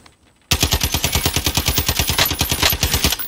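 Machine gun fire in Warzone that starts abruptly after a brief quiet, a fast, even stream of loud, close shots repeating at a steady rhythm for about three seconds.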